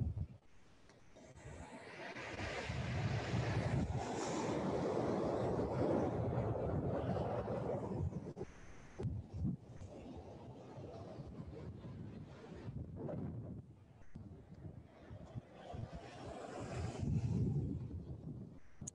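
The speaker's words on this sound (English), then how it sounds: "Think of the rhythmic fluidity of those ocean waves." Ocean waves wash onto a beach in long swelling surges, a steady broad roar rising and falling with wind noise buffeting the microphone, no talking.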